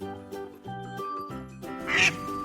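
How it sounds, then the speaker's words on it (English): A duck quacks in a kids' farm animals game, several nasal, harmonic calls in quick succession, loud and close, with a brighter burst near the end. "Oh wow, it's the duck that goes."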